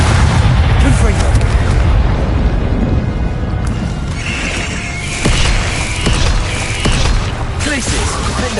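Confringo blasting-spell explosions in Hogwarts Legacy boom heavily and repeatedly, with dense low rumble and sharp bursts layered under continuous game action.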